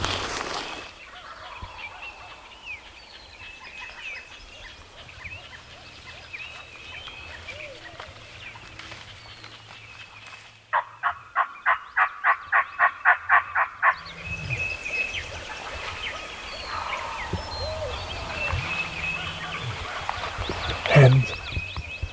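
Outdoors in Iowa woodland among birdsong, a distant wild turkey gobbler gives a rapid, rattling gobble in a burst of quick pulses, followed by softer clucks from hens and woodland ambience.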